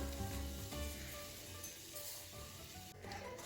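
Tamarind and jaggery green chili panchamrit bubbling and sizzling in a pan, a steady close simmer with a low rumble, continuous throughout and free of any talk.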